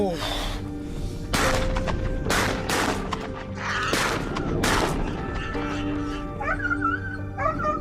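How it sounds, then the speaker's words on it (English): Several sharp, loud gunshots crack out one after another during a wild boar hunt, spaced a second or so apart, with dogs barking and whimpering in between and a voice speaking underneath. "another gunshot rang out"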